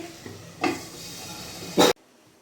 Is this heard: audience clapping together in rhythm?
no